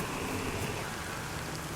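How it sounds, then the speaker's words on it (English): Steady rain in the video game DayZ falls in a dense, even hiss, close and constant throughout the short stretch. "It's raining."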